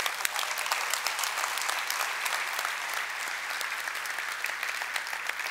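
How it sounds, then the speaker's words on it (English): Keynote audience at a tech conference claps in sustained, dense applause, steady and loud throughout the hall with no break. "Can we please give a warm round of applause for the makers of the best cloud and data platform in the world?"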